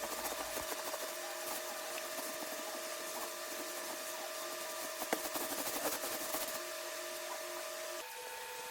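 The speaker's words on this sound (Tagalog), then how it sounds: "Kinuskus ko ng tela para matanggal yung unang layer ng baking soda." Cloth rubbed steadily over a mattress to wipe away a layer of baking soda, giving a continuous soft scraping under a faint steady background hum, close and fairly quiet.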